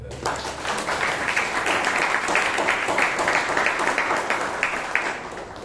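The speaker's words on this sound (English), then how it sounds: "Big round of applause for it." Audience applause at a Bangalore Toastmasters club meeting, a steady wash of many hands clapping that holds for several seconds at moderate, even loudness.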